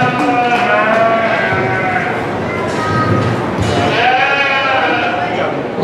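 Sheep bleat at a wether dam livestock show. Several loud, wavering bleats rise over a busy, reverberant barn din while someone speaks over a loudspeaker.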